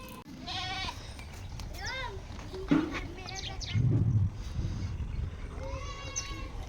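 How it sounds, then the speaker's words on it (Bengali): Goats bleat on a farm as one approaches, with several wavering cries near the start, middle and end over a low background murmur and rustle. "ছাগল আসছে"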